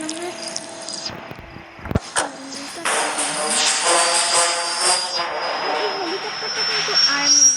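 An army helicopter in the horror game Granny Chapter 2 gives a droning engine whine that starts after a few short clicks and builds, growing steadily louder under a person talking.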